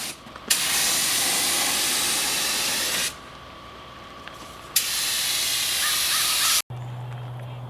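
Long hissing blasts of a spray gun painting a truck frame on a rotisserie, on and off in extended passes, with a brief quieter gap between bursts.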